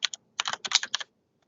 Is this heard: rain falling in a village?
no